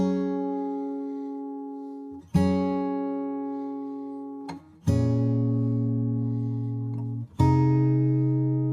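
Simple acoustic guitar part panned left, four clean strummed chords spaced a couple of seconds apart, each ringing and slowly decaying, played alone at moderate level.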